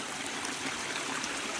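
Water in a Japanese-style koi pond runs steadily down into a lower section, a close, continuous broadband rush and trickle with no talk over it.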